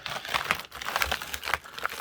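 Packaging torn open by hand rather than cut with scissors while making dalgona coffee, giving a close series of crinkling, ripping bursts over about two seconds.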